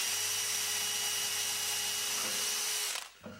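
A high-pitched power drill whirs steadily at close range, drilling metal for rivets, for about three seconds, then winds down and stops.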